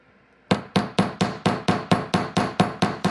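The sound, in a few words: hammering a wire-wrapped bangle bracelet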